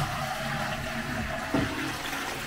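A push-button toilet in a newly fitted cloakroom flushes with a steady rush of water, a soft burst and gurgle near the end, heard alone and fairly quiet.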